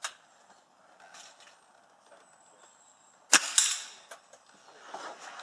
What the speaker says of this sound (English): Okay, so there's a consistent shot